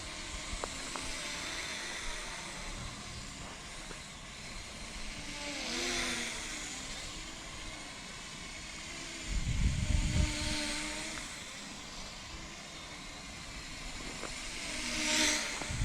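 Small iBase Toy H816H quadcopter drone flying outdoors, a faint, thin propeller whine that rises and falls as it moves, with a louder low rumbling burst near the middle.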